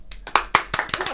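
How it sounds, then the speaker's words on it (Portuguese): A small group in a podcast studio gives a guest a short round of clapping, a handful of close, uneven hand claps over about a second. "Uma salva de palmas."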